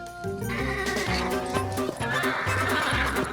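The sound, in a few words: horse whinnying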